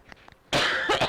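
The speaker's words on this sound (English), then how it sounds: "I'm going to cough again." A single loud cough from a person sewing a travel bag, coming close after a stretch of quiet and lasting about half a second, with a second burst of coughing at the end.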